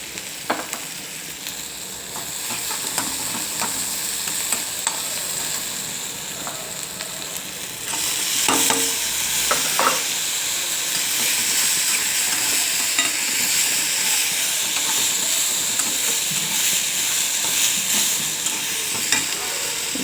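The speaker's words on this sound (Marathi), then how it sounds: "कांदा थोडा परतल्यावर त्यात निवडलेली गवारी घालून घ्यायची आहे." Onion and cluster beans (gavar) sauté in a hot pan, a steady close sizzle that swells louder partway through, with occasional clinks and scrapes of stirring.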